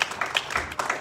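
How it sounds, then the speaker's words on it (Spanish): Pentecostal church congregation giving a short burst of applause during a sermon, a quick run of irregular claps at moderate loudness with no speech over it. "Damos un fuerte aplauso a Dios"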